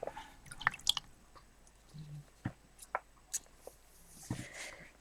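A wet watercolour paintbrush is pressed and squeezed out onto a baby wipe, giving a few soft, close squelches and drips that come in brief, faint bursts with quiet gaps between them.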